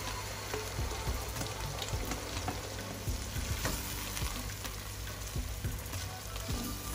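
Chopped tomatoes go into a frying pan for a beans stew and crackle in hot oil, a dense, continuous sizzle with scattered pops and faint stirring, heard alone without speech.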